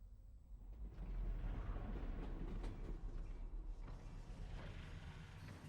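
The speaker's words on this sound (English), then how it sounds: "Did the train stop? It stopped." A train rolls along in the video game Half-Life: Alyx, giving a quiet, steady mechanical rumble with faint creaks and clanks and no voices.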